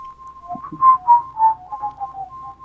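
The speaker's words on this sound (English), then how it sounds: "you know this song starts whistling madly" A game character whistles a bouncy tune in Magician's Quest: Witching Hour, clear melodic notes rising and falling in short phrases over a quiet background, close and fairly loud.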